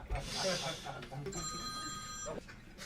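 An audience member's phone ringing at a stand-up comedy show, a brief electronic ring cutting in under someone talking and a noisy room.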